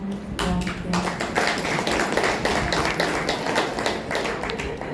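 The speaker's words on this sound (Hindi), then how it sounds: "आज इन माताएं खातिर ताली बजाइए तो" An audience at a spiritual gathering claps for mothers, a dense, sustained burst of many hands clapping together at moderate volume, fairly close, with no voices over it.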